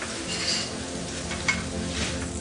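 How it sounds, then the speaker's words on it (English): Fish, including bream, frying in a restaurant kitchen pan holding far too much fat, giving a steady loud sizzle with brief scraping and stirring clatter on top, no voices. "You've got far too much fat in the pan."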